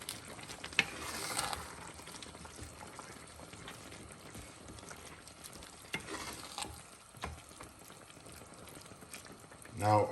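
Spinach simmers in a covered pot with a low, continuous bubbling hiss, scattered with faint clicks and rattles from the lid or cookware.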